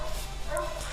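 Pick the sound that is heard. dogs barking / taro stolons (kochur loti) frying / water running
dogs barking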